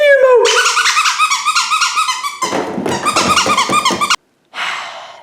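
A dog squeaking a squeaky toy indoors, with loud, rapid, continuous squeals repeated for several seconds, then a brief pause before more squeaking.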